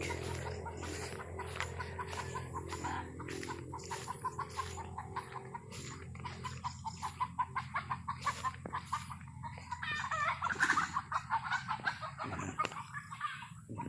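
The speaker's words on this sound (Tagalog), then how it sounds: "may mga manok mga idol o" Several chickens cluck and chatter nearby in a steady, busy stream of short calls, growing a little louder and denser toward the end.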